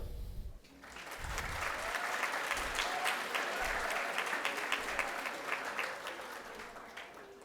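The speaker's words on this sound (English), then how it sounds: "let us have a clap for Ronak" Audience applause at the valedictory ceremony of an innovation conference of the Ahmedabad Management Association, a dense, steady clapping that swells in quickly after a brief pause, holds strong and thins out near the end.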